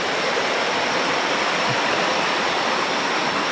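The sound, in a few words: murky river flowing at Gua Riam Macan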